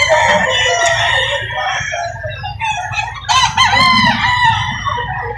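Rooster crowing loudly and close at a chicken market in Lipa, Batangas, one long strained crow followed by a second, with clucking fowl and background chatter.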